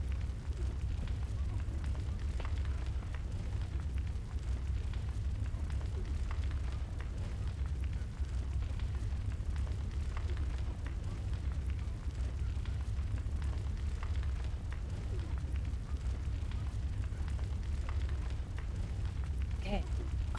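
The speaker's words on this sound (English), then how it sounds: "my old little miniature castle is on fire" Fire roaring in Bloodborne as a miniature castle burns, a steady dense rumble with constant crackle throughout, loud and unbroken, with a voice talking over it.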